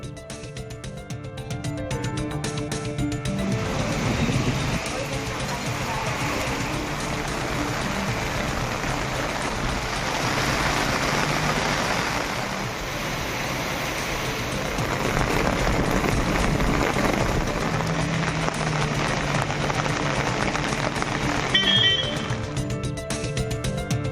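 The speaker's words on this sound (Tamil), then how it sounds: "இடி மின்னலுடன் பெய்த கனமழையால் சாலைகளில் குளம் போல் தண்ணீர் தேங்கியது" Heavy rain pours steadily over flooded, waterlogged town roads in Mayiladuthurai during a thunderstorm, a dense unbroken hiss of downpour that stays loud throughout, with no distinct thunderclap standing out.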